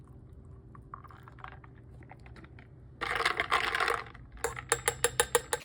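Fingers type on a computer keyboard while drafting a fantasy novel, with soft background clatter giving way to a dense, close burst of keystrokes, then a slower run of distinct, sharper taps.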